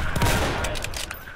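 Dense, continuous gunfire from a Roblox World War II shooter, a loud sustained fusillade of overlapping shots and machine-gun bursts filling the whole moment with no voices.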